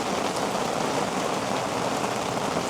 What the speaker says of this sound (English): This rain is loud as fuck.